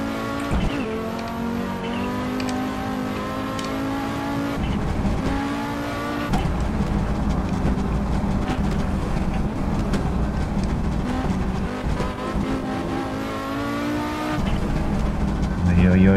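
A race car in Assetto Corsa sliding sideways on the Nordschleife, its engine droning and revving continuously with tire noise throughout, loud and steady under occasional talk.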